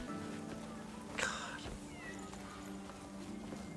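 A single cat meow from a cat in a video game, heard once over a quiet, steady game background.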